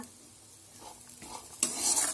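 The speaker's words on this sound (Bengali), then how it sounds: "ফোড়ন দিয়ে তেল দিয়ে ভাজা হলো।" A quiet moment and a few scraping stirs, then a sudden loud sizzle as cumin seeds and dried red chilies hit hot oil and keep frying.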